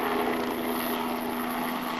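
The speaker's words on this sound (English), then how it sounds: "Helicopters have been scooping buckets of water from the river since first light this morning" Helicopters working over a river to fight a pine and pasture wildfire in Hawkes Bay, giving a steady, loud rotor and engine drone with a constant hum through the whole stretch and no talk.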